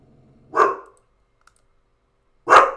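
A dog barks indoors, two single loud barks spaced about two seconds apart with quiet between them.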